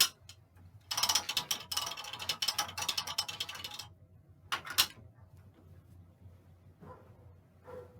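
A quilting frame's ratchet mechanism clicks as the quilt is advanced, with a rapid run of sharp, close ratcheting ticks for a few seconds, then a brief second burst and a couple of faint clicks afterward.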